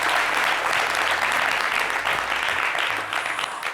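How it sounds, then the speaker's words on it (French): A television studio audience applauds steadily and loudly for nearly four seconds, a dense wash of many hands clapping together with no voices on top. "Applaudissez encore, s'il vous plaît."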